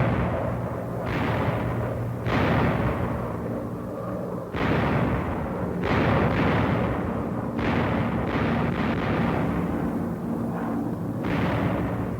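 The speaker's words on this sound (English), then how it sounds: "fragmentation bombs dropped by parachutes, lest they explode too soon beneath the low-flying planes" WWII parachute fragmentation bombs detonate in a series of heavy, booming blasts at irregular intervals, each one rumbling and fading before the next.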